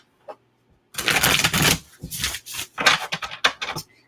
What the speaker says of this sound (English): you can riffle shuffle it